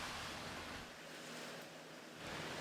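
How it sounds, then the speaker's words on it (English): Strong tailwind gusting across an open backyard during a putting game, a steady broadband rush that swells loud, dips briefly in the middle and surges again, with no talk. "that strong gust of tailwind coming in"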